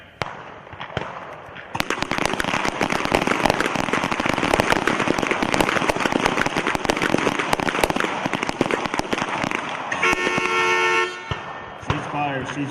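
An Army team pistol match, with many shooters firing pistols in a dense, overlapping volley of sharp cracks that rings out for several seconds, followed by a horn blast as the string ends.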